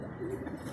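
Homing pigeons landing at the loft after a training flight, with a single soft coo rising briefly over steady outdoor background noise.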